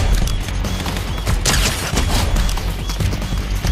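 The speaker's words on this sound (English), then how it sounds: "Whoa, getting shot from behind." Gunfire in the Fortnite video game: a dense, continuous barrage of close, loud shots and impacts, with brief pauses in the firing.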